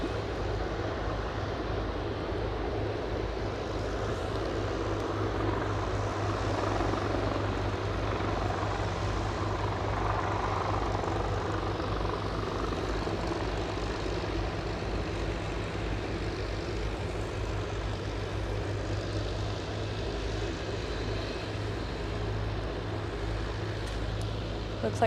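Steady aircraft engine drone from a Loganair plane at Aberdeen airport, a continuous moderate rumble holding level throughout with a faint voice beneath it.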